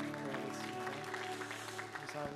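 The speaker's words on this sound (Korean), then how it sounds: "큰 박수로" A congregation at a church young-adults worship service applauds quietly, a faint patter of clapping under sustained musical tones.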